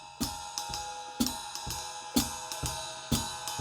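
Jazz swing drum pattern on a drum kit: hi-hat, ride cymbal and bass drum play together in a steady lilting groove of bright cymbal strokes with soft low kicks, clean and close.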